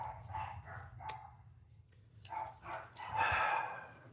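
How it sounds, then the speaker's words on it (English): Dogs barking at a distance, several separate yelps and barks spaced irregularly, with one longer, louder bark toward the end, no talk over them. "And there's the dogs."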